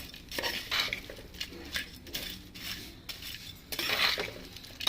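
A utensil stirs and clinks against a pot as dried prawns are mixed with mango, giving irregular scraping and clattering strokes, close and fairly quiet, with no talking.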